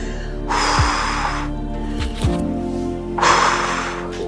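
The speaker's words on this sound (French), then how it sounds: "grande respiration" Deep breathing during a stretching exercise: a few slow, close, loud inhales and exhales through the nose, with a low hum underneath.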